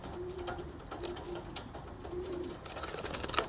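Young racing homer pigeons, about forty days old and newly caged, give soft repeated coos in short low phrases against a quiet background, with light rustling and a few sharper sounds near the end.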